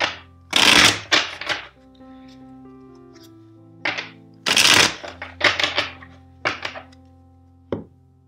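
Two loud riffle shuffles of a tarot deck, each trailed by several sharp taps and knocks as the cards are squared up.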